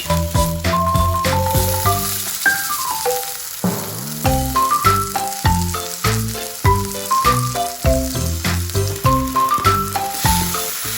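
Boiled instant noodles sizzle and crackle in a hot wok beneath loud, rhythmic background music with plucked melodic notes.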